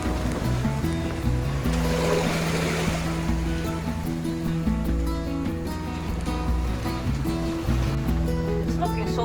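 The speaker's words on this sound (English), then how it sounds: "Sometimes big waves splashing around" Waves wash and splash around a sailboat moving at about five knots off Menorca, a continuous rushing surge blended with a steady low hum throughout.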